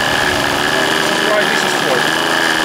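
A tiny OS Max 10 glow engine of 1.76 cc, mounted in a vintage 1970s Holt Tajmer RC model aircraft, runs at a steady high buzz throughout, with voices talking over it.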